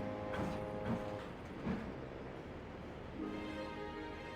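A model train on the Little Western layout rolls along the track with faint, rhythmic clicking and light rumble, a few sharper ticks standing out, steady and fairly quiet.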